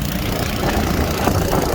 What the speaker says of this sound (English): We're pumping some water, trying to get ready for spraying.